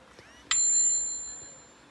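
A phone rings with a short, bright bell-like tone as a loan app calls, a single clear ring that decays over about a second in a quiet room.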